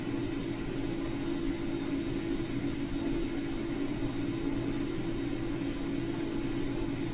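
The ALVINN autonomous vehicle drives along with a steady, low engine rumble and road noise, constant and unbroken with no voices.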